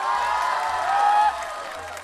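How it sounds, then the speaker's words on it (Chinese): Audience applause and cheering at a televised singing talent show audition, a steady wash of clapping with crowd noise and a sustained tonal hum throughout, easing slightly toward the end. "掌声热烈一点啊！"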